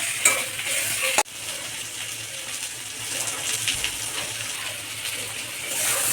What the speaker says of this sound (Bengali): তো বন্ধুরা, এটা ভালো করে কষে নিয়েছি